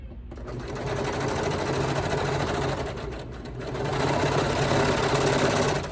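Brother Lock 1034D serger stitching a side seam on baby bummies, a fast, steady mechanical whir running close and loud for several seconds, dipping briefly midway before picking back up.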